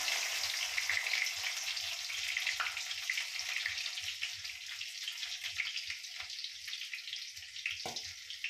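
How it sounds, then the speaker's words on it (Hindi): Garlic and ginger sizzle in hot oil for chaumin, a steady bright frying hiss that holds throughout with occasional soft pops and a sharper crackle near the end. "ये देखिए फ्रेंड, तेल गर्म हो चुका है। अब इसमें लहसुन और अदरक डाल देंगे।"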